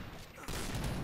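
A burst of gunfire from a sniper rifle in the online shooter Point Blank fills the clip, loud and dense, with a sharp onset partway through.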